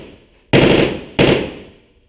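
At a shooting range, two loud, sharp gunshots from a red dot sighted gun ring out about two-thirds of a second apart, each decaying with a short echo.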